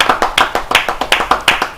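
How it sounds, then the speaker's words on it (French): Rhythmic hand clapping in a television talk-show studio in Cameroon, about ten sharp claps at a steady quick pace, close and fairly loud, with no talking over them. "On t'applaudir encore pour ça."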